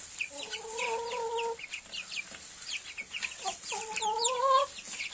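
Chickens clucking and calling in a farmyard pen near rabbits, a steady chatter of hens with two longer drawn-out calls, one near the start and one near the end, close and fairly loud with no talk over them.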